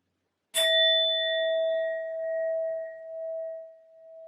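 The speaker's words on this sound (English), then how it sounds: "I'm first going to use my sound bowl to clear and set the energy." A sound bowl is struck once, producing a sharp metallic strike that blooms into a long, pure, sustained ring with shimmering overtones, heard alone and slowly fading.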